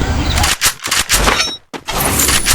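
Gunfire in the mobile battle game Free Fire, loud close bursts of rapid shots in quick clusters, with a short silent gap before firing resumes.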